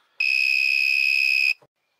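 A homemade NE555 door and window alarm buzzer sounds one loud, steady, high-pitched tone for just over a second, then cuts off abruptly.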